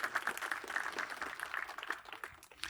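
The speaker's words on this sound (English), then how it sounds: "Let's give him another round of applause" A live audience applauds for a presenter named Tony, a steady dense patter of many hands clapping at moderate volume with no voices over it.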